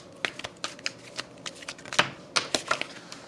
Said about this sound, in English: As far as the card stock, it's good to shuffle.